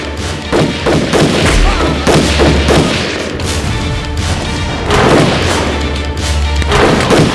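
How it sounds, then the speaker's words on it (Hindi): A movie battle sound effect of soldiers firing guns as a royal army fights British troops at Pratapgarh: loud, dense gunfire and heavy booms with thuds, continuous for several seconds and barely pausing. "दुश्मन के सैनिक बंदूकों से गोली चला रहे थे"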